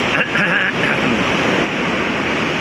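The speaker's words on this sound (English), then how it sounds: "today here in the sea is pretty noisy" Rough sea waves roll and crash nearby, a loud, continuous surging roar with wind buffeting the microphone throughout.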